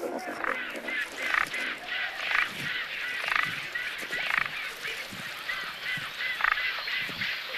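A noisy rookery of large nesting birds along the Mississippi River, with repeated honking calls rising every second or so over a steady murmur of the colony.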